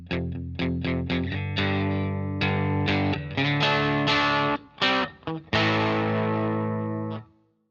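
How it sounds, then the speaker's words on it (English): Electric guitar played through an amp at moderate gain, sustained distorted chords with a thick, saturated tone, loud and close, with brief pauses near the end before the final ringing chord. "from around 4 to 7, the full range of distortion may often suddenly or gradually kick in"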